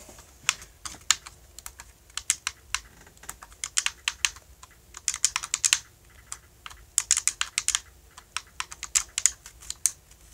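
Someone types a password on a computer keyboard in quick, irregular bursts of sharp, close clicks, with short pauses between the clusters of keystrokes.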